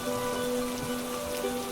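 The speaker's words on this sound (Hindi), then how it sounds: "उस रात बारिश थमने का नाम नहीं ले रही थी।" Heavy rain falls steadily at night, a dense, constant wash of drops pattering on surfaces with no voices, holding at an even level throughout.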